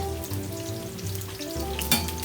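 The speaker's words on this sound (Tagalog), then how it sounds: "Just a little sauteing." Onion sauteing in extra virgin coconut oil in a Saladmaster multi-purpose cooker, a steady close sizzle with occasional stirring clatter and no talk.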